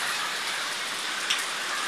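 Steady rain pours outside a house during a power outage, a dense even hiss of drops on surfaces with no voices over it.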